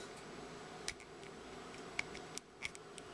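A few sharp, faint clicks from the ratcheted knee joint of a NECA RoboCop action figure being bent, spaced irregularly over quiet background.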